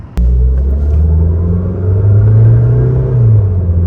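A used car with a suspected transmission differential problem rumbles and vibrates, a loud, close low drone that starts abruptly and holds steady with a slight rise in pitch midway, no talking.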